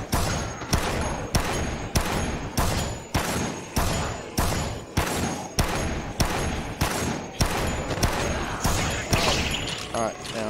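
Dead Rising gunfire, heavy shots fired one after another at a steady pace of roughly one per second, each loud and punchy with a short decay, about a dozen in a row.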